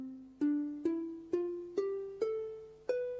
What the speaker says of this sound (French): ce son est probablement assez semblable à celui que produisait la lyre de David